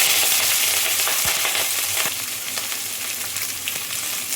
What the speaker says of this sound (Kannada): ಇದಕ್ಕೆ ಕಟ್ ಮಾಡಿ ಇಟ್ಕೊಂಡಿದ್ದ ಹಸಿರು ಮೆಣಸು ಹಾಕ್ಕೊಳ್ತಿದ್ದೀನಿ